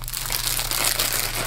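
Pop-Tarts snack wrapper crinkling as it is handled inside a bag pocket, close and fairly quiet, with a continuous crackle of plastic and no voices.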